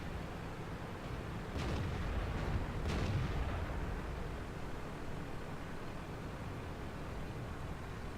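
Tank cannon fire in a World of Tanks-style video game, a few sharp muffled blasts around one and three seconds over a steady low rumbling battle noise, fairly faint and distant, with no talk.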